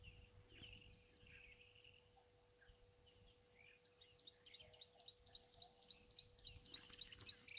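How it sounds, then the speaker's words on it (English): Many birds call constantly around a waterhole in Etosha, a mix of chirps and rapid repeated tweets over a steady insect drone and light background hiss, fairly faint and distant. "Obviously, lots of birds calling here constantly."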